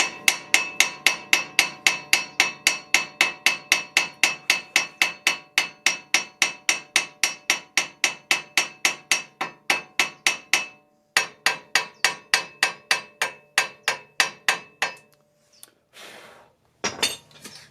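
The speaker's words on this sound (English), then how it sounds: "with the hammer. I'm going to tap these bolts" Hammer tapping brake caliper bolts on a Lincoln Town Car, a long run of steady, evenly spaced sharp metallic taps close up, slowing and breaking into a few last strikes near the end.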